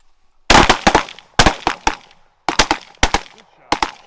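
Shotgun blasts ring out at mallard ducks during a rainy hilltop hunt, loud and close, fired in quick clusters of two or three cracks with short gaps, several volleys in a few seconds.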